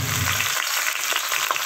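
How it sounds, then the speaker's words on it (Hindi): Chicken frying in a pan with golden brown onions gives a steady, loud, close sizzle with crackling oil throughout, and no voices. "प्याज के साथ हम इसे फ्राई कर लेंगे"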